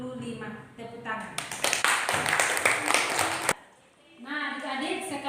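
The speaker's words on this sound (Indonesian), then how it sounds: "tepuk tangan" Students in a classroom clap together in a short burst of about two seconds, flanked by a teacher's voice speaking before and after.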